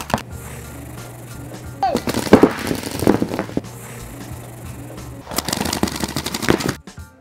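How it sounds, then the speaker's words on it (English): Paintball markers firing about 12.5 balls a second during a paintball game, rapid cracking bursts like machine-gun fire in two long volleys, loud and close, with a brief pause between them. "It's really fast, sounds like we're shooting machine guns."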